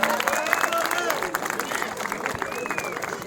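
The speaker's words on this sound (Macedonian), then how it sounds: "Хајде на аплауз за екипата на Цоле Бајц" Crowd clapping for the second-place team at a football tournament in Jegunovce, moderate applause with chatter and overlapping voices throughout.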